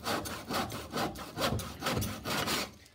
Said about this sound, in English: you see the speed at which you can actually cut this accurately